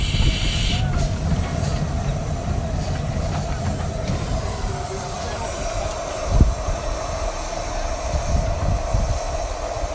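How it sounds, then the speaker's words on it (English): A Romney, Hythe and Dymchurch miniature railway train braking to a stop, heard from the cab as a steady rolling rumble with a constant brake hiss and a single clunk midway, close and continuous. "So you can feel the brakes slowing us down now."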